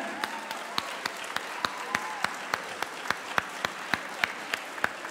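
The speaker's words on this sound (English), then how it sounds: "Let's hear a round of applause for Anna Shafър." Fairly sparse, rhythmic clapping from a modest panel audience welcomes guest Anna Shaffer, steady individual claps standing out over a soft room murmur.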